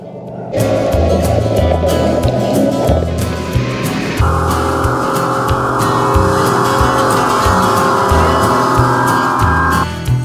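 A heavy tractor engine drones steadily and loudly throughout while hauling firewood in Alaska, with a low rumbling drive and a change in pitch partway through, close by and without talk.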